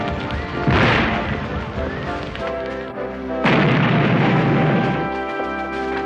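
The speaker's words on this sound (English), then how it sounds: "They're firing on us from Dorchester Heights." Cannon artillery fire from Dorchester Heights during a siege of Boston in a war drama, heard as two loud booming volleys, each rumbling on for a couple of seconds amid a busy, noisy background.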